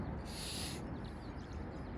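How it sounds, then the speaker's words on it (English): A single bird calls outdoors, a short, high, bright note that is quiet and distant over steady broadband wind or ambient noise, with no voices. "There's a nice bird."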